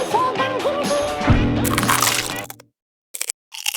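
Loud crunching and cracking as a crispy fried croquette snack with crisp cheese is bitten close up, with a burst of crackle and brief sharp crunches before short silences.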